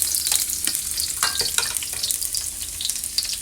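Garlic sizzles in hot oil in a pan for a simple home-cooked string bean and ground meat dish, making a steady crackling fry with small pops and stirring clicks, close and fairly loud with no talking.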